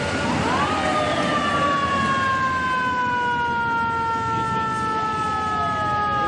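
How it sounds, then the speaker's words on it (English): A fire truck rolls through traffic with its siren wailing steadily and loudly close by, rising and falling tones layered over a rumbling engine and road noise, with no voices over it. "Yeah, the horns, the siren, there's just so many things."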